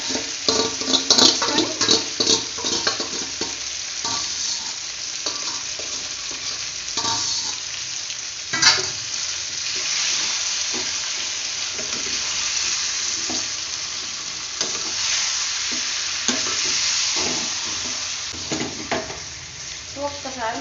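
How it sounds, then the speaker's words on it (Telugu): Marinated chicken frying in a pan, a loud, close, continuous sizzle with frequent scraping stir strokes and clatter throughout, no voices heard. "ఇంకా చికెన్ మనం మ్యాగ్నేట్ చేసుకున్న చికెన్ వేసేసుకోవాలి శుభ్రంగా"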